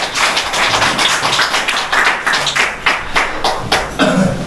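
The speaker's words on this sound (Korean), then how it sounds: "박수로 환영하겠습니다." A church congregation on Parents' Sunday gives applause to welcome a visiting air-conditioner business owner, with steady, rhythmic, close clapping from a crowd continuing throughout.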